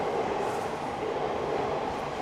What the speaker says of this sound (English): watch bullet trains, all sorts of trains go past below